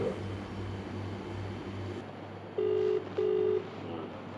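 Telephone ringing with two short electronic trills in quick succession over a steady low background hum, close and fairly clear.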